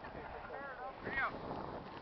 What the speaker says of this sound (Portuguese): Tá ventando, cara.